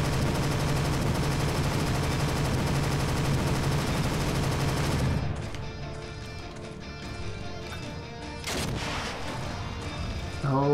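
Sustained automatic gunfire in Jurassic the Hunted rattles loudly for several seconds, then gives way to scattered shots, mechanical clatter and game effects.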